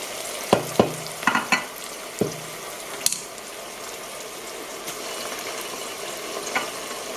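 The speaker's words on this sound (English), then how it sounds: "The oil is now ready to fry the 4 chopped onions, the 2 tablespoons of ginger and garlic paste," Four chopped onions with ginger and garlic paste and a hot pepper frying in hot oil for Nigerian fried rice, a steady close sizzle broken early on by a few sharp clinks and scrapes of a utensil against the pan.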